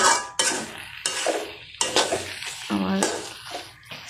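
Taro greens cooked with a hilsa fish head sizzle in hot oil as the oil separates, with a ladle scraping and stirring the pan in repeated bursts at close range.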